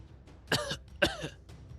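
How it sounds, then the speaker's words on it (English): Two short, raspy coughs close to the mic, half a second apart, followed by a faint third breathy cough; otherwise quiet. "Coughing"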